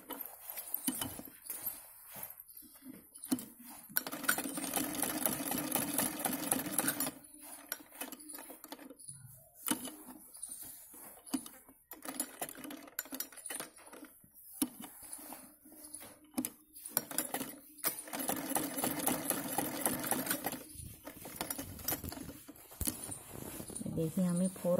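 A sewing machine stitches a wavy lahariya design on a salwar, its rapid ticking needle running in bursts with short pauses, while someone talks over it.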